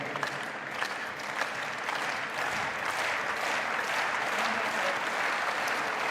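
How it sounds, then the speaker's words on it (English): Spectators at a padel World Cup quarter-final in an indoor arena in Kuwait clapping, a sustained crowd applause with distinct individual claps popping out, steady and fairly loud throughout. "The clap from the crowd knows it."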